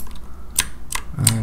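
Three crisp keyboard and mouse clicks ring out on a computer, an Alt key press followed by left clicks, spaced at irregular intervals over a faint background hum.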